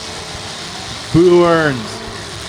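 A demolition derby car at the 2023 Chino Challenge, the number 61, is refired: its engine bursts into a short, loud rev that climbs and fades over a steady background, while a voice speaks briefly.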